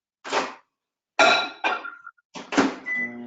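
A microwave oven being set to melt chocolate in short bursts: a door thunk, sharp keypad beeps, then a steady running hum with a faint tone, close and clear, no talk.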